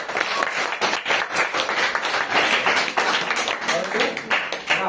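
A room of young schoolchildren at a classroom quiz breaks into loud, rapid, dense clapping that continues throughout, with voices talking and calling over it.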